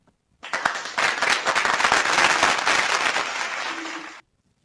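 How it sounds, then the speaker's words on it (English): Applause for a guest on a discussion programme bursts in suddenly as dense, loud clapping, holds for about four seconds, then cuts off abruptly. "Let me give her a round of applause before she say hi."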